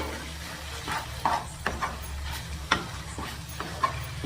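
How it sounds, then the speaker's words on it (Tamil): Mushroom gravy ingredients sautéing in a pan, with a soft sizzle under repeated stirring scrapes and light clinks from a spoon, close and moderately quiet, no talking. "இதெல்லாம் நல்லா வதக்கிக்கலாங்க"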